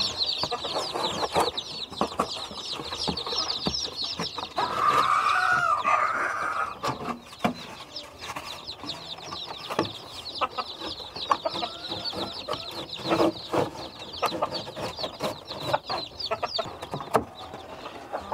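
Dense, continuous high-pitched cheeping from many KUB chicks, steady and busy throughout, with occasional louder peeps and a few soft clucks mixed in.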